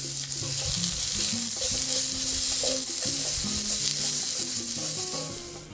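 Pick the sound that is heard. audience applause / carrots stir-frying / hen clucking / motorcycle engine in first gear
carrots stir-frying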